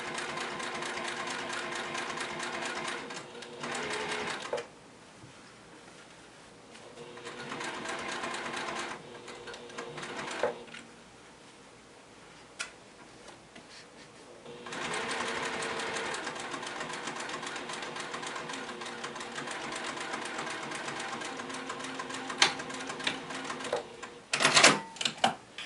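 A sewing machine top stitching a fabric project box with a 1/8 inch seam, its rapid mechanical whirring running in bursts separated by brief pauses, with no voices.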